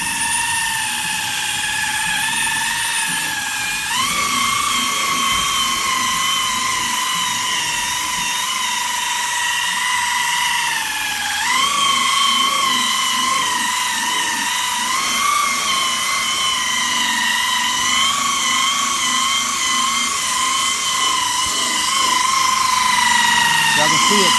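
A buffer spinning at about 2,200 RPM polishes the headlight of a 2012 Cadillac SRX, a loud continuous high whine whose pitch dips briefly under load a few times.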